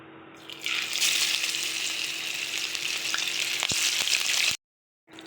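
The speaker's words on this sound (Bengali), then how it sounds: "ইলিশ মাছ ভেজে নেব" Hilsa fish frying in oil gives a loud, steady crackling sizzle close by, with a few clicks, before cutting off abruptly near the end.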